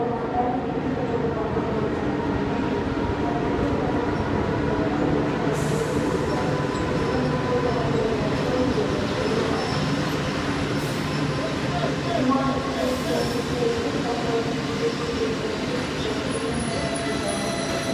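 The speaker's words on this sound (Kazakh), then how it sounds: "Электровоз ВЛ-80." Turan Express passenger train hauled by a VL-80 electric locomotive arriving at an Almaty station, a loud continuous rumble of long rolling carriages with faint wheel squeals, steady throughout.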